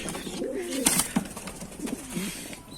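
Adana tumbler pigeons cooing in an outdoor loft, low soft coos rising and falling in a few phrases at close range, with light background noise and no talking.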